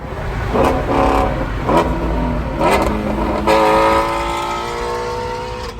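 A 2019 Ford Shelby GT350R V8 revving with its exhaust valves open, loud and close, with repeated sharp blips followed by a longer climbing rev that holds and fades.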